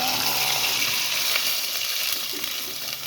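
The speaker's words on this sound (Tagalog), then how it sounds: "Lagyan natin ito ang ating tubig." Water pours steadily into a cooking pot holding chicken, a continuous rushing gush close by with no talk over it.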